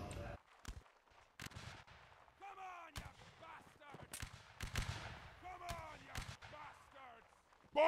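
Musket gunfire in the Napoleonic Wars video game: scattered sharp cracks, some close and some distant, firing irregularly amid voices talking and shouting.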